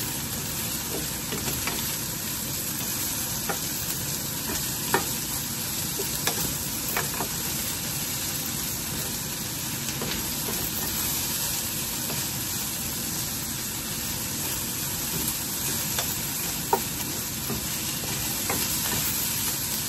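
Chicken frying and being stirred in a pan, a steady dense sizzle throughout with occasional scraping knocks of a utensil, close and continuous with no talking.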